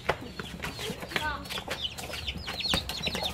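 Chickens cluck and flap their wings during a casual outdoor football game, with repeated short calls and wing bursts over a busy background of people talking and shouting.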